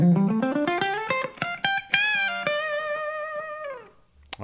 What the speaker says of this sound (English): I'll put a little distortion on it to get that going